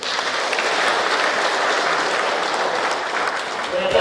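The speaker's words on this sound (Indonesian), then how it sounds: "Tepuk tangan dulu." A room full of people at a fire prevention training session claps continuously, a dense even wash of applause that holds steady throughout.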